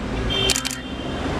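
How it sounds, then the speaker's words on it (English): A single camera shutter fires once, a crisp two-part mechanical click close to the microphone, set against a faint steady room hum. "It's called the shutter. It goes up for a very short span of time, letting light enter the sensor, forming an image."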